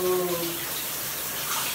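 Shower water runs in a steady, close hiss, with a brief tonal squeak at the start before the spray settles into a constant wash.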